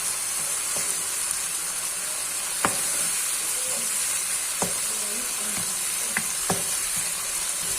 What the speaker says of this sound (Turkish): bir yemek kaşığı biber salçamızı ilave edip bir güzel karıştıralım